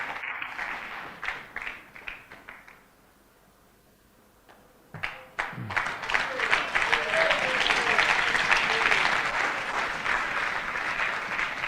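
Applause at a church gathering in South Africa starts as scattered claps, drops almost silent for a moment, then swells into loud, dense, sustained clapping from a large audience, with some crowd voices mixed in.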